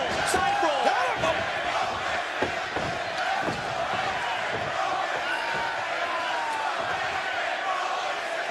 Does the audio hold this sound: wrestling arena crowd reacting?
yes